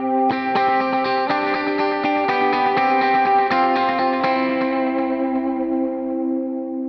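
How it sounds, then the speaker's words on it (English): Electric guitar notes ring out with long echoing repeats and a wide reverb wash, sustaining and slowly fading at the end. "here's what my delay and reverb sounds like"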